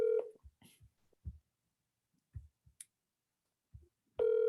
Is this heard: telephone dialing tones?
yes